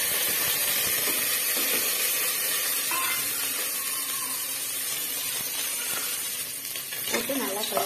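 Chopped onion, curry leaves and garlic sautéing in hot oil for Tamil-style paruppu sadam, a steady loud sizzle and hiss throughout, with a brief scrape of stirring near the end.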